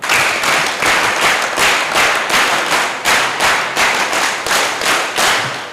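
An audience claps in welcome at a ceremony for an alcohol de-addiction camp, the applause loud and close with a steady pulsing rhythm of hands.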